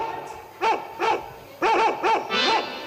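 A dog barks close by in a series of five sharp barks, two single ones and then a quicker cluster of three.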